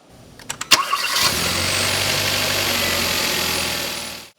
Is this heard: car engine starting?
yes